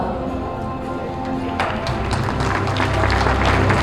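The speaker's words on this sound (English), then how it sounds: "Come on guys, a big round of applause" Audience applause at the 41st annual AAPI medical convention, quiet at first and then breaking into a swelling wave of dense clapping that grows louder toward the end.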